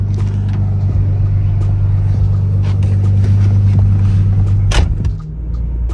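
A Nissan 300ZX engine with bigger turbos and full exhaust rumbles close by in a steady, deep idle, a brief sharp noise near the end, with no talking.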